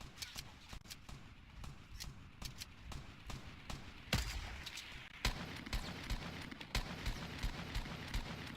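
Bursts of gunfire ring out in a battle royale shooter game, with rapid repeated shots and several sharper loud reports.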